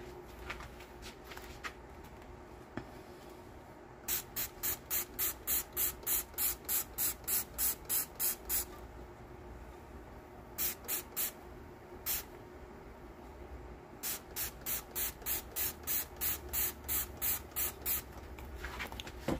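A power washer sprays paint onto a mermaid-scale glitter tumbler in rapid hissing bursts, with separate runs of quick pulses and pauses between them, loud and close, with no voices.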